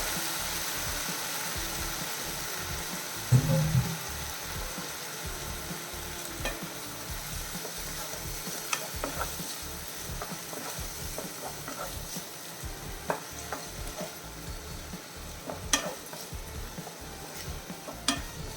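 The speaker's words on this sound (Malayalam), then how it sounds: "നല്ല രീതിയിൽ ഒന്ന് മിക്സ് ചെയ്തേക്കാം മീഡിയം ഫ്ലെയിമിൽ വെച്ചിട്ട്" A squid mixture sizzles in a pan over a medium flame while a spoon stirs it, a steady frying hiss under intermittent scraping and light clinks.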